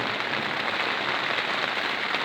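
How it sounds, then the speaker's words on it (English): Steady, dense rain falls through a thunderstorm in Essex, UK, a continuous hiss of drops on surfaces with no pauses and no voices. "so certainly getting some rain right now"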